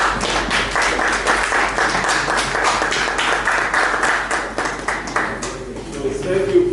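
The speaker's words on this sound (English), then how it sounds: "Please let's give Prof a round of applause." Conference attendees give a lecturer a round of applause after a probability talk. The sparse, distinct claps sound thin and slightly distant, as if over a remote connection, with faint voices underneath.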